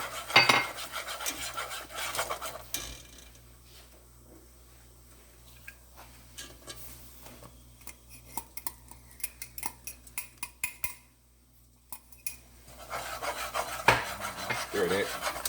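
Flour worked into choux pastry dough in a pot for eclairs and cream puffs, heard as close rasping, rubbing strokes of a spoon in bursts at the start and end, with scattered soft taps between.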